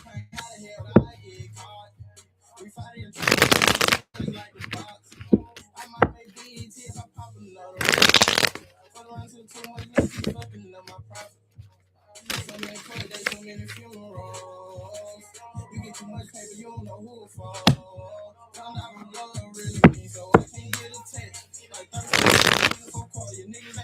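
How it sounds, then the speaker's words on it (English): Tarot cards being shuffled by hand in repeated bursts of riffling and flicking, with brief pauses between rounds, close and fairly loud with no talk. "I just really want to shuffle my cards and everything like that"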